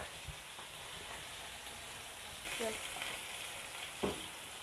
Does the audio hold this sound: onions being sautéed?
yes